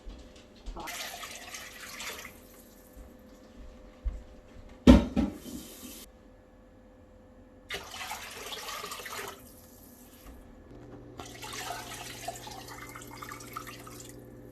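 Tap water runs into a crock pot in three separate splashing bursts, with a knock and a clatter between fills.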